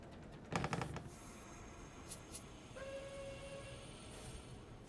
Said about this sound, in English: All right, so there's the AI train.